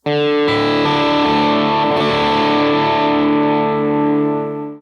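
A sustained electric guitar chord rings out loud and gritty through a Line 6 HX Stomp AC30 amp simulation, slightly distorted with a shimmering tail that slowly fades.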